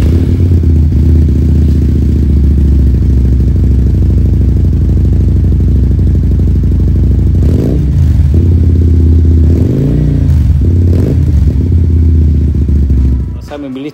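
Engine of a custom bobber-style V16 motorcycle with aftermarket exhaust, a loud steady idle rumble that swells briefly a few times as the throttle is blipped, running alone throughout.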